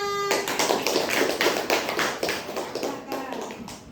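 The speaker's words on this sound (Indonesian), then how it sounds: "tepuk tangan untuk Mbak Sila." Classroom applause for a student presenter during a lesson, a dense patter of hand claps from a group of pupils lasting several seconds with a few voices mixed in.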